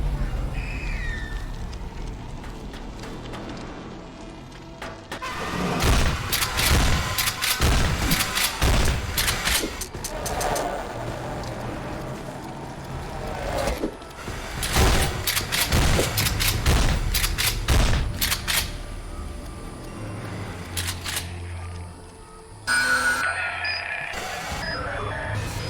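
Rapid gunfire bursts from the horror game Dread X Collection 2, loud and sustained volleys with booming shots over a dark ambient backdrop, fading to quieter beeps near the end.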